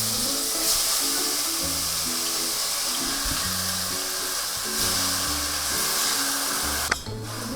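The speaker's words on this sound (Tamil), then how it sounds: "எண்ணெய் கொஞ்சம் காஞ்சோடனே சிக்கன் போட்டுடலாம்." Marinated chicken fries in hot oil with a steady, fairly loud sizzle and a faint rhythmic low thumping underneath, ending in a brief sharp clatter.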